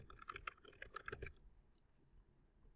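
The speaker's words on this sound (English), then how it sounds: "if we were to type in a 12-digit code" Rapid keystrokes on a computer keyboard as a 12-digit code is entered, a quick burst of about a dozen close, crisp clicks lasting just over a second, then quiet room tone.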